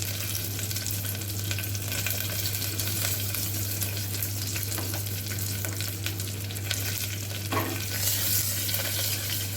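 Sizzling tempering of oil with asafoetida and curry leaves for sambhar, a steady close hiss and crackle that runs throughout, with no voices.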